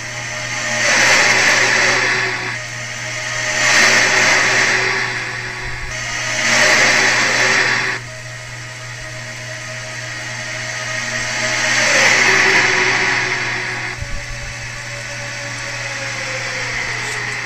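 ARCA stock cars, including a Toyota Camry, racing at Daytona in a video game: engines swell and fade as cars pass in several repeated waves, loud and close, over a steady low engine drone, without talk.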